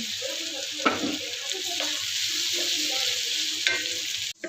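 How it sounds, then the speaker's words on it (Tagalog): Corn kernels sautéing in a pan for a home-cooked ginisang mais give a steady, close sizzle broken by a few sharp stirring scrapes, then cut off abruptly at the end. "Kasi ito, gisa na tayo, guys. Ilalagay ko na itong mais."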